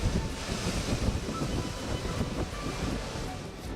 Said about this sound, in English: churning seas